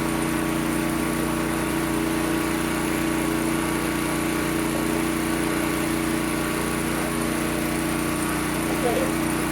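Kawasaki GA1400 suitcase generator running after a pull start, a steady high-pitched small-engine drone with a constant hum, close and unchanging throughout, with talking faintly over it.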